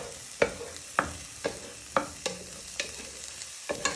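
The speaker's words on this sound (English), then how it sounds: "you just want to give them a little stir for a minute or two" Food fries softly in a pan while a utensil stirs it, giving about eight sharp scraping knocks spaced roughly half a second apart over a quiet, steady sizzle.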